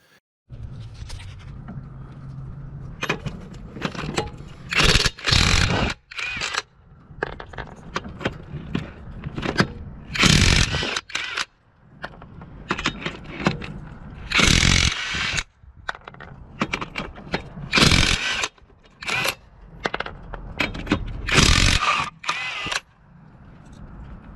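Top Shak brushless impact wrench fired in repeated loud bursts of rapid hammering, each a second or two long, separated by short pauses, close to the microphone.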